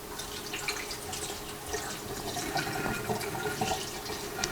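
Water trickles and drips softly and continuously as bean sprouts are rinsed, with scattered splashes and light rinsing sounds, fairly quiet and nearby.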